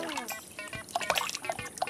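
Cartoon water sloshes and splashes in small waves inside a goldfish bowl, light trickling and plopping sounds under lively children's voices.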